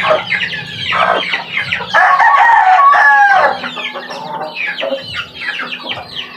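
Chickens and small chicks clucking and calling close by while feeding on moringa, with overlapping busy chatter and a few brief crowing-like calls, steady and fairly loud throughout.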